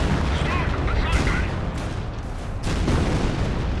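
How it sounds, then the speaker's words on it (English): Heavy booming gunfire from a Firefly tank in Company of Heroes, with several sharp blasts over a dense battlefield rumble, punctuated by abrupt cracks near the middle and end. "I think that was the Firefly shot there, not the 70 pounder shot"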